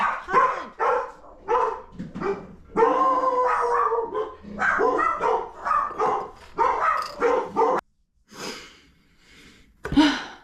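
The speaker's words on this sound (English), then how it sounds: "My dogs started barking at my neighbor's dogs who were in the front yard running around" Several dogs bark and yelp in quick, excited bursts, fairly loud and close, pausing briefly before a few more barks.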